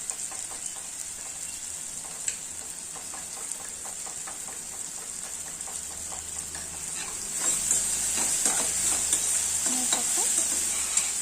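Tomato and onion fry in a pan with a steady sizzle, broken by scraping stirs; the frying grows louder and denser about two thirds of the way through, with no talking.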